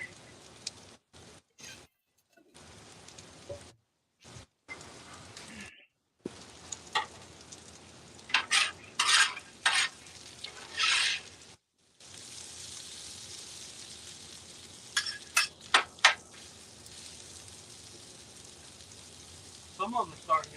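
Bacon cheddar ranch waffle fries sizzle in a pan with a steady crackling hiss, broken by gaps of silence and a few sharper pops, while people talk over the cooking.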